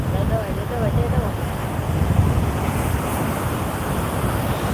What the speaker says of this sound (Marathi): लाटा एकदम भयानक येतात